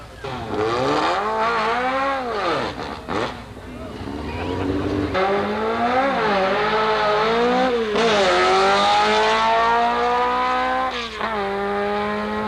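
Vintage drag cars, among them a 1964 VW Karmann Ghia with a 145 cubic inch motor, launch at Carlsbad Raceway in San Diego, their engines wailing through rising and falling revs that stay loud and near for the whole stretch.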